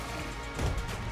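Cobalt's hammer strikes in Enter the Gungeon, a single heavy smash landing midway through the clip over a steady bed of game noise and music.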